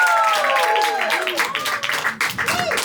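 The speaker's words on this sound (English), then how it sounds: "Let's start clapping right now for Andre Malhotra." An audience applauds a comedian coming on stage at a comedy show in Hoboken, a dense patter of clapping that keeps going under a loud voice.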